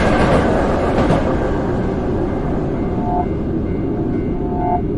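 A train rumbles steadily along the tracks, loud and close, with a continuous roar and faint high squeals from the wheels.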